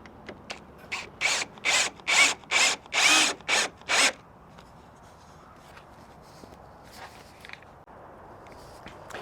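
A power drill drives 3-inch decking screws into wood, seven loud sustained whirring bursts in quick succession over about three seconds, then quieter faint clicks and handling noises with no talking.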